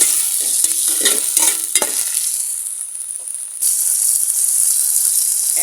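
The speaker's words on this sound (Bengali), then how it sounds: "এখন নেড়ে চেড়ে টমেটো কুচা, কাঁচামরিচ কুচা দিয়ে ভালো করে নেড়ে চেড়ে" Chopped tomatoes and green chillies are stirred in a hot frying pan, with steady oil sizzle and hiss under several scraping, clattering stirs of a spatula, close and fairly loud.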